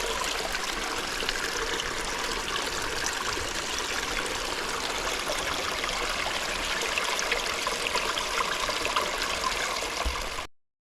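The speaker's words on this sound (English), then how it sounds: "Just pop my water bag down in there," A water bag fills in a small stream in Fairlight Glen near Hastings, the steady babbling trickle of running water close by, constant and alone, fading out at the end.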